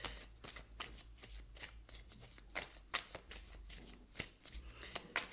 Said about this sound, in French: Je remélange votre jeu